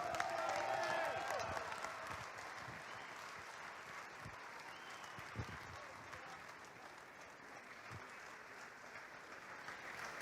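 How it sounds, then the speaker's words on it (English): Sustained audience applause fills a hall during a college athletics hall of honor induction for a 1963 football team, steady clapping that slowly eases over about ten seconds with faint voices beneath. "How about a round of applause for these guys?"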